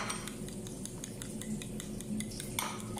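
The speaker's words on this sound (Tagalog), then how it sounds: "So, i-mix lang natin ng maayos para mag-combine lahat ng mga ingredients." A utensil stirring keto avocado toast batter of melted butter, egg, flour, baking powder, salt, garlic powder and pepper in a bowl, steady rapid clinking and scraping close by.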